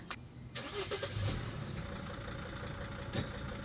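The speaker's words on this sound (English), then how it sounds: "Start the engine." A car engine cranks and catches, then settles into a steady running idle close by. No one speaks.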